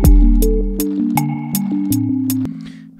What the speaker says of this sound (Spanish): Ahora cuando ustedes insertan eco, claro, suena así por defecto.